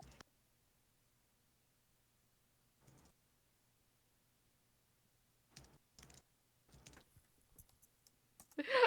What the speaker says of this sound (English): I just hear like intermittent Amanda typing